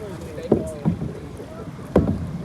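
A kayak is paddled at Padubidri beach, with a few distinct splashing paddle strokes in the water against a low windy background, and voices talking nearby.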